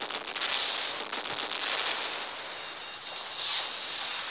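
Explosions from the Hellburner weapon in the video game War Robots, detonating repeatedly as a run of crackling, hissy bursts that rise and fade over a few seconds, fairly loud and without speech.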